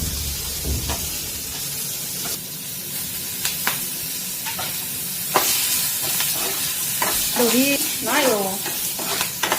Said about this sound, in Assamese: তাহলে আমার পটল ভাজি